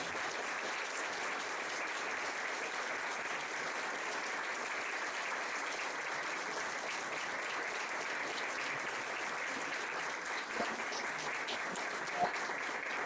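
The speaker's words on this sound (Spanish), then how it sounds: "Les pido un fuerte aplauso, por favor." Steady, even applause from an audience at an economics debate fills the room, dense and unbroken from start to finish, with no voices on top.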